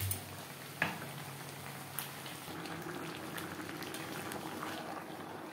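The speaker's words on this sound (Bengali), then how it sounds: "সবজির সাথে মাছের মাথা আরও 4-5 মিনিট রান্না করব" Fish head simmering with Malabar spinach, pumpkin and sweet potato, a steady close bubbling boil with a couple of light taps of a utensil early on.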